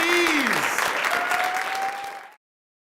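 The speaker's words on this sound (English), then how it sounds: "A round of applause for all of them, please." Audience at the Alaska State Poetry Out Loud competition applauds the contestants, full close clapping that cuts off abruptly, with a voice briefly heard at the start.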